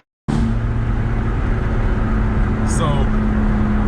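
A car, apparently a BMW M4 with full bolt-ons, roars loudly as its tires spin without traction, a sudden sustained engine drone with a brief squeal partway through.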